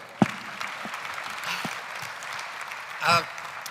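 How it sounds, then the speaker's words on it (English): Audience applause at an annual development-bank meeting, a steady wash of clapping from a large seated crowd that holds throughout, with a few louder claps and a brief swell near the end. "Please show your approval with a round of applause."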